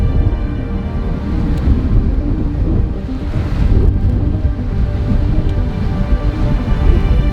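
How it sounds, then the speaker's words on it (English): Waves crash and churn against sharp rocks at the foot of a sea cave on the Macau coast, a dense, continuous roar of surf with gusting wind buffeting the microphone throughout and no voices. "standing at the foot of a secret cave surrounded by crashing waves and sharp rocks"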